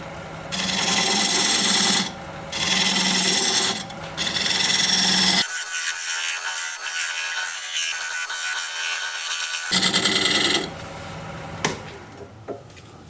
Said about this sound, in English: Now I'm going to use this diamond point tool to square up the sides of the tenon.